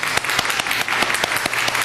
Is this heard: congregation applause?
yes